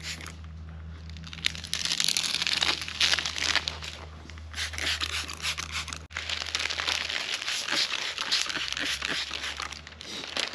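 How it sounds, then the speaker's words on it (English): Wet window tint film for the rear window of an SVT Cobra is rolled and handled, giving close crinkling and crackling plastic rustles in uneven bursts over a low steady hum. "So we're gonna roll the tint basically."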